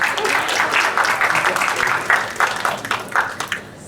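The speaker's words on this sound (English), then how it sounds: "Another round of applause." Applause from an audience of parents at a school orientation for classes 4 and 5, a steady crowd clapping that tapers into scattered individual claps near the end.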